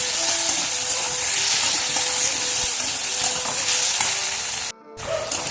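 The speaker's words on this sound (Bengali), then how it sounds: "তো দেখো হালকা হালকা ভেজেছি, আদা লঙ্কা যেটা ঘষে রেখেছি এর মধ্যে দিয়ে দিলাম" Grated ginger and green chili frying with a pinch of turmeric in a pan, giving a steady loud sizzle with light stirring, then a brief cut near the end before the sizzle resumes.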